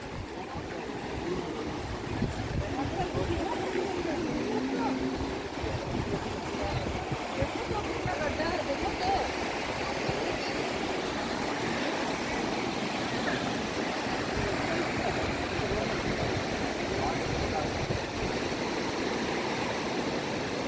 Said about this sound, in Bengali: নদীতে জল বয়ে যাচ্ছে।